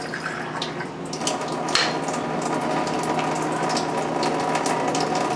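A water ionizer dispensing 9.5 pH alkaline water, a steady trickling stream running into a container with a faint mechanical hum underneath and a few light clinks.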